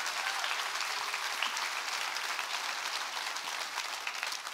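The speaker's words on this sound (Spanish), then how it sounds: "Dale más fuerte ese aplauso al Rey" A church congregation applauds during a sermon, a dense, sustained wash of clapping from a large crowd, loud and steady throughout with no speech over it.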